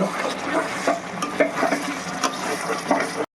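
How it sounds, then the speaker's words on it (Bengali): Dhaniya chicken, a green coriander chicken dish, being stirred and mixed in a pan, with steady scraping and stirring strokes and a soft sizzle throughout, ending abruptly. "এবার এরকম মেশাতে হবে ভালো করে।"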